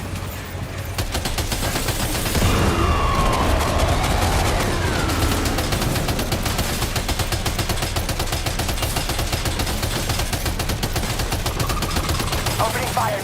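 Sustained automatic gunfire from the video game Death Stranding 2, a dense rattling barrage that runs loud and nearly continuous for the whole stretch, with game sounds and brief voices mixed underneath.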